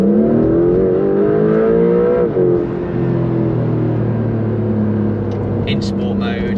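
Porsche 911 992.2 GTS Targa hybrid accelerating in sport mode, its engine note climbing steadily and then holding a loud, sustained drone from inside the car, with a voice talking over it.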